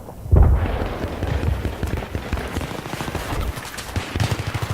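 Rapid bursts of gunfire in the video game Battlefield 3 crack repeatedly in quick succession, a loud opening shot followed by sustained rattling volleys of varying intensity.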